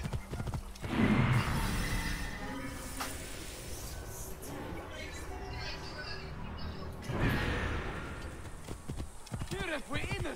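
Hooves of a horse in Assassin's Creed Origins clip-clopping steadily under constant game noise, with a brief whinny and someone talking over it.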